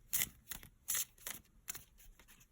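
A tarot card deck being shuffled close up in a quiet room, with soft, crisp riffling bursts repeating in a loose rhythm and no talking.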